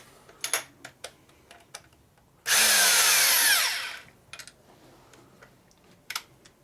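A power reamer is run on a rebuilt 1965 Harley-Davidson Panhead 74ci FLH engine, one loud, steady whirring burst of about a second and a half, with light clicks and taps before and after.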